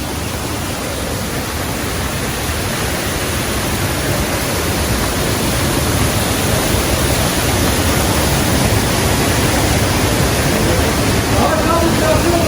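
A continuous broad rush of flowing water fills the scene, steady and fairly loud without a break, like a stream running close by: a creek of the Murat River beside the Golan hot springs.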